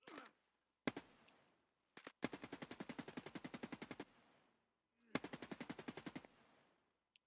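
Rapid automatic gunfire in the video game Escape from Tarkov, several long bursts of evenly spaced shots with a few single cracks between them, loud and close with brief silences.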